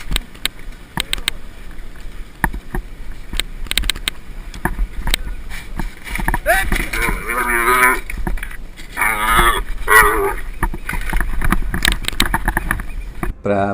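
A calf moos repeatedly in a recording played back, with loud drawn-out bellows in the middle, over steady background noise.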